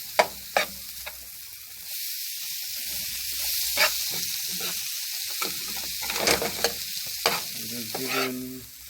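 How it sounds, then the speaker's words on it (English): Shrimp fry in a pan with garlic and ginger, giving a soft hiss broken by sharp, irregular scrapes and clicks as a utensil stirs them up close. "The shrimp is coming on good. I'm just giving it a stir"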